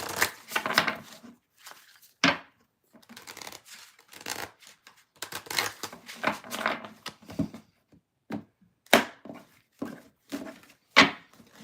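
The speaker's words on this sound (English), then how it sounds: "last deck to shuffle" A tarot card deck is shuffled by hand in a quiet room, with irregular bursts of riffling, slapping and sliding cards separated by short pauses.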